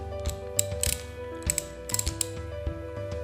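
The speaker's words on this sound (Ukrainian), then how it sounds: "Далі головкою номер 13 ми відкручуємо гайку" Ratchet socket, size 13, unscrewing the nut on Felco 31 pruning shears, quick bursts of clicking ratchet strokes with sharp metallic ticks, close up and loud.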